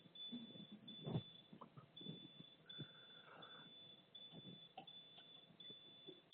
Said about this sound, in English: we just have a beeping phone on the wall